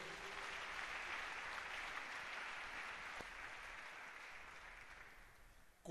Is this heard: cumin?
no